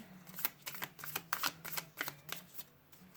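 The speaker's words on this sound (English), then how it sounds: "I'm going to pull some super attractor cards" Oracle cards shuffled close up in a quiet room, a quick run of crisp riffling snaps and soft slides repeating for a few seconds with no talking.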